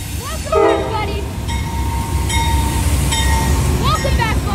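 An Amtrak passenger train pulls in with steady rail rumble underneath, sounding several loud, sustained horn blasts in sequence, while people shout and cheer nearby.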